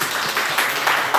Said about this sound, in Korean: 박수로 하겠습니다.